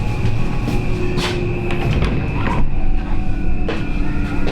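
Loud, continuous rumble of a moving Dutch passenger train heard from inside a first-class carriage, with steady mechanical hum and occasional rattles and clatter.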